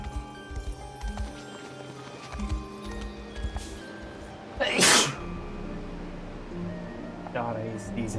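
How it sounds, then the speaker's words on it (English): A single sharp, loud sneeze bursts out midway, set among game sounds of hooves, music and soft rustling, with brief speech nearby. "God, I hate sneezing."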